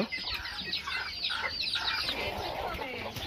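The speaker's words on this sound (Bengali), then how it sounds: "এই যে সব হাঁস মুরগি বেরোতেছে" Ducks and chickens on a rural organic homestead in Sirajganj, with a busy overlapping chorus of clucks and squawks close by, continuous and fairly loud, with faint voices in the background.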